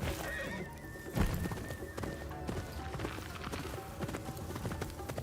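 Horse hooves clip-clop at a steady riding pace in the samurai video game Ghost of Yotei, a rhythmic clatter over ambient game sound with a brief thud early on.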